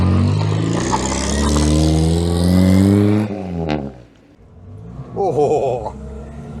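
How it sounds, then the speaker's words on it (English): A 1098cc four-cylinder Morris Minor Traveller with a stainless steel exhaust revs loudly and steadily at close range, then its note drops away and returns in a short rising burst. "that famous exhaust trumpet, somewhat accentuated, is that the word? Exaggerated, that's the word, on this example by a stainless steel exhaust"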